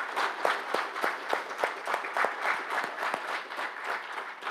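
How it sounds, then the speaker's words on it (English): A crowd applauds steadily, many hands clapping in a dense, continuous wash of sound with no voices standing out. "would you give a round of applause for those that have served?"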